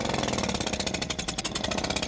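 A faulty car engine revs with a rough, pulsing rhythm, steady and fairly loud throughout, like an engine held at raised revs.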